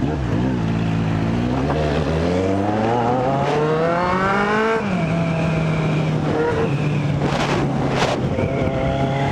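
A Honda Hornet motorcycle accelerating hard in busy city traffic, its engine rising in pitch through several gear shifts, loud and close, then settling to a steadier drone.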